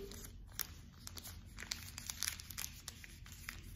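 Paper folded in half by hand during a candle love ritual, giving close, dry crinkling and rustling with soft sharp crackles scattered across the whole stretch, with no voice.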